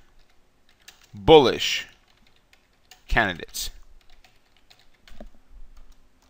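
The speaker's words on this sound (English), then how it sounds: "And I'm just going to start typing." Computer keyboard keys tap in short scattered bursts as a label is typed into a trading software field, mostly quiet between strokes, with a person speaking briefly over the typing.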